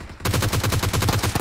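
A rapid burst of automatic gunfire in PUBG Mobile, a tight string of about a dozen loud, evenly spaced shots lasting just over a second, with no talk.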